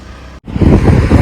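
Vehicles pass on a winding mountain road, a brief cut of near silence followed by a rising, close rush of engine and road noise mixed with wind buffeting.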